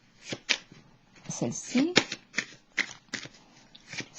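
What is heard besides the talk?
drawing and handling tarot cards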